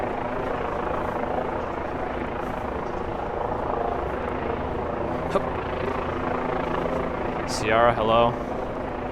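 A news helicopter hovers over Manhattan with a steady low rotor drone throughout, loud and continuous, while a person briefly speaks near the end.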